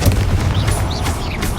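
Confringo blasting spell explosions in Hogwarts Legacy, dense loud booming blasts with whooshing magical swirls layered over a rumbling low roar.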